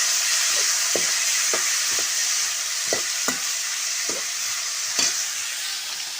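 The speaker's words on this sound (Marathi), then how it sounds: "फोडणीचा आवाज येतच असेल तुम्हाला मस्त मस्तपैकी" Cumin and curry leaves sizzle in hot oil over a wood-fired stove, a steady bright hiss broken by a series of short scraping stirs at fairly regular intervals.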